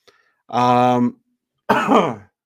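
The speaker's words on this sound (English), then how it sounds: "So you're going to hear me cough here and there" A man gives a short raspy throat clear followed by a single cough, both close and loud, separated by a brief silence.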